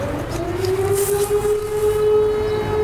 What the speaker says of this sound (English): that means 12 o'clock siren